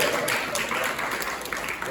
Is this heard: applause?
yes